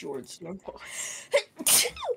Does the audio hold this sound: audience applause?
no